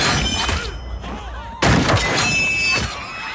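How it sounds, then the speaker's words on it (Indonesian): Gunfire erupts in an action film scene, several sharp loud shots and a burst of impacts with shattering debris, layered over music and effects in close succession. "Jane yang mengetahui hal itu pun langsung menembak mereka."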